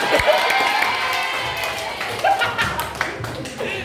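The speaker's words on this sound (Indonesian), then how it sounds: "Iya, tepuk tangan." A classroom of children claps in a steady patter of applause, with a few louder individual claps and voices mixed in.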